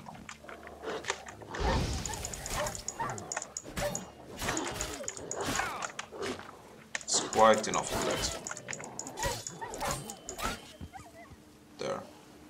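Wild dogs attack in the video game The Witcher 3, with scattered snarls, bites and scuffling bursts of varying loudness, mixed with someone speaking.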